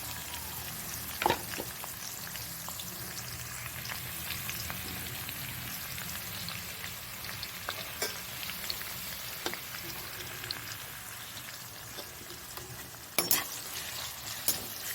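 Onions fry in hot oil with cinnamon sticks and cloves for pepper chicken, a soft, continuous crackling sizzle with a few sharper pops and clicks.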